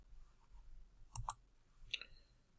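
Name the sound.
mouse clicks while running a software installer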